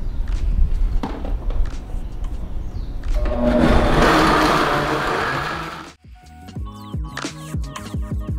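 A blender whirring through a smoothie of fruit and coconut water, building to a loud sustained roar for a few seconds, then stopping and followed by clattering kitchen knocks and handling sounds.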